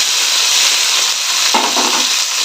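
Chopped tomatoes frying in a pan for a mango dal with greens, giving a constant loud, close sizzle, briefly stirred with a few soft scraping strokes midway.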